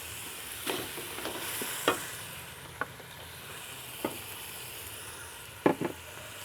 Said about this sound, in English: Give that a mix and let everything turn into a paste.